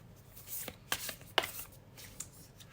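Oracle card deck being shuffled by hand, producing soft papery riffles and a few sharper snaps and taps, close and fairly quiet with no voices.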